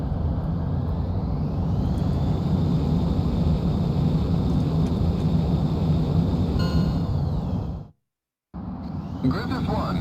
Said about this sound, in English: We'll use the Rafale. Griffith 1, you are cleared for takeoff. From a carrier this time?